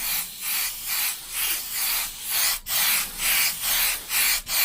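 A Gaahleri GHAD-39 airbrush sprays paint in short bursts, a steady close-up hiss that pulses on and off in an even rhythm of about ten quick strokes.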